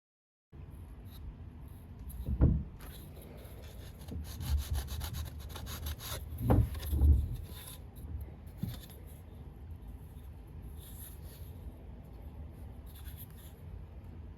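Hand sanding of a foam surfboard fin, a dry scratchy rubbing that runs steadily with a few louder strokes near the start, close and alone without talk.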